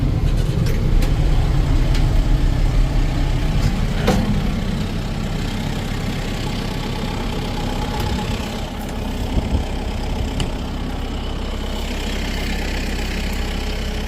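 A Kubota M7060 tractor engine runs steadily at idle close by, a continuous low rumble holding even throughout, slightly louder at first and then settling.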